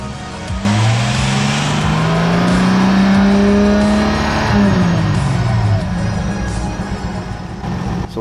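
A Datsun 280ZX engine revved during a fuel pressure test, held at a steady elevated rev for several seconds before dropping back, loud and close with a continuous exhaust drone.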